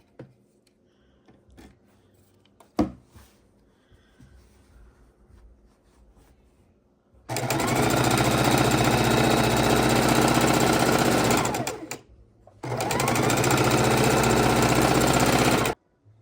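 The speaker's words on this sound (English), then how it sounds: "We have been sewing some of our pieces on long strips that we had in our scrap bin." A sewing machine stitches fabric scrap strips for a quilt project, running in two long steady buzzing bursts of several seconds each after a stretch of quiet handling noises, loud and close with no talk.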